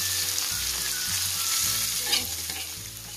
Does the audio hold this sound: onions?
yes